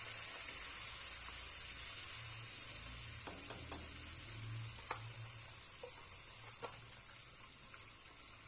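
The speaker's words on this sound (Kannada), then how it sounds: "ಈಗ ಇದನ್ನು ಎಣ್ಣೆಗೆ ಹಾಕ್ಕೊಂಡು ಎಣ್ಣೆಯಲ್ಲಿ ಒಂದೆರಡು ನಿಮಿಷ ಚೆನ್ನಾಗಿ ಬಾಡಿಸ್ಕೊಳ್ಳಿ." Masala paste fries in hot oil for a potato and green chilli gravy, giving a steady close sizzle with a bright hiss, occasional stirring clinks and soft pops, and no talking.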